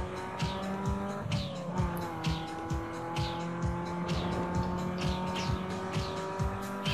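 A car in Need for Speed: Underground 2 drifts with its engine revving hard, while sharp, repeated tire squeals and skid bursts cut through at an uneven rhythm.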